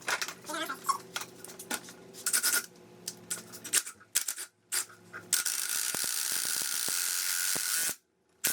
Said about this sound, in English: All you gotta do is just put the bolt back on and bolt it back down,